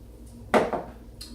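A measuring cup of water is set into a pan on the stove while rice is being prepared, giving one brief close clunk of cookware in a quiet kitchen.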